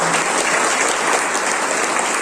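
Thick, steady applause from a large audience cheering achievers at a national EMI tour event near Jim Corbett National Park, Uttarakhand, sustained and even throughout with no break.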